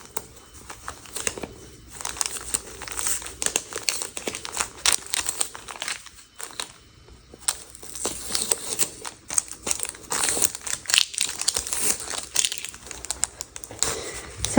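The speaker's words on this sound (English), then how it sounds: "Let's go ahead and take the tape off" Tape being peeled off a sublimated 100% cotton shirt after a cold press, giving a run of close crinkling, crackling rips with brief pauses.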